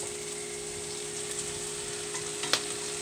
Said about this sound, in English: Now I'm gonna add this meat in here.